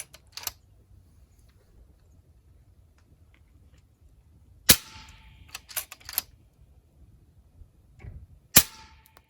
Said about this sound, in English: We're going to shoot, say, 3 to 5 shots until we get a consistent number